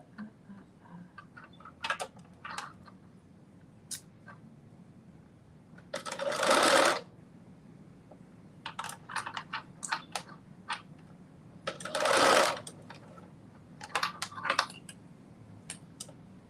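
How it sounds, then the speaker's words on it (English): A sewing machine stitching a McCalls 7757 dress, running in two loud, steady bursts of several seconds each, separated by scattered ticks and clicks of handling at close range; no one speaks. "the other thing that's a little tricky I'm seeing as I'm sewing this is that it's circular"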